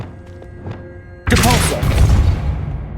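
Levioso spell cast in the Hogwarts Legacy video game, heard as a sudden loud magical whoosh with a bright shimmering burst that sustains and then slowly fades, following a quieter stretch of low background ambience.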